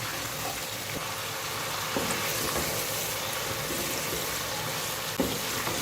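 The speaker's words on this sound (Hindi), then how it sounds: "अच्छे से फ्राई करेंगे।" Chicken fries with chopped ginger and garlic in a pan for nihari, a loud, dense, continuous sizzle close up with a few faint knocks of a utensil; no speech.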